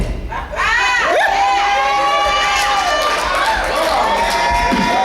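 A church congregation at a pastor's appreciation service shouts and cheers loudly and continuously, with many voices rising and falling together in a dense, lively crowd roar.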